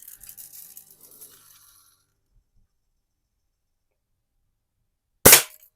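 One sharp crack from a Crosman Hunter Hank BB gun striking a can, loud and abrupt after several seconds of near silence, preceded by faint rustling handling noise.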